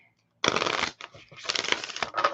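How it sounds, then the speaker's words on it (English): Tarot cards are shuffled in two quick riffling bursts, crisp and close, with a brief pause between them and no talking. "2 small shuffles and we'll cut."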